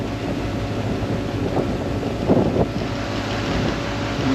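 Boat engines work harder against an incoming tide on a choppy sea, a steady low motor drone mixed with buffeting wind noise on the microphone and a few brief splashing surges.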